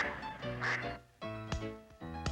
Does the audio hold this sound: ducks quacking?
yes